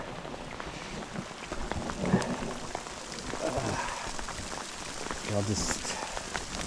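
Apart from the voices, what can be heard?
hail falling during a fly fishing trip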